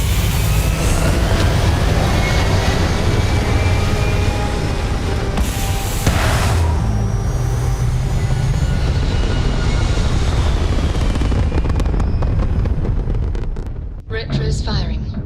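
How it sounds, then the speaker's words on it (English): Spaceship thrusters in Starfield fire as a steady, loud low roar with rumbling texture lasting the whole stretch, briefly dipping and sputtering near the end, while voices speak over it. "All thrusters firing."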